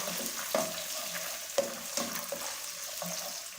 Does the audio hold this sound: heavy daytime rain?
no